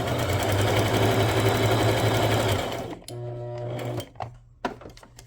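A sewing machine stitches down a tuxedo pocket, running loud and steady for over two seconds, then stopping and restarting briefly, with a few fabric handling clicks and knocks near the end.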